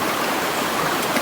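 River water rushes loudly and steadily close by as food is washed in it, a continuous dense flowing hiss with no break.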